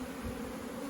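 Honeybees active at the hive make a steady, close, continuous buzzing drone with no pauses and no voices.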